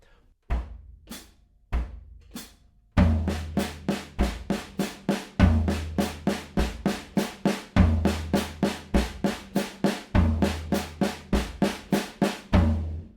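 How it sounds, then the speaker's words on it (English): A steady drum pattern on a deep floor tom, a few spaced hits and then a fast, even run of loud booming strokes with no talking. "So first point, it's going to go to the floor tom."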